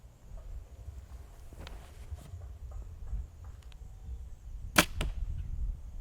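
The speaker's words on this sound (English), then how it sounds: "I took a shot at that target with my quiver on" Close to the listener, an arrow leaves a bow and strikes a practice target with a sharp double crack, set against faint outdoor field ambience and a few soft rustles.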